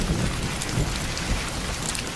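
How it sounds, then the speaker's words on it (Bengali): Steady, fairly loud rain pours down evenly across the whole stretch, with a dense hiss of drops on surfaces and a low rumble beneath. "কথাটা বলতে কিনা বলতেই বৃষ্টি শুরু হয়ে গেল।"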